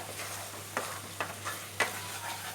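Pineapple pickle being stirred in a pan with asafoetida, a few distinct scraping strokes of the spoon spaced apart over a soft, steady sizzle, close and moderately quiet, with no talking.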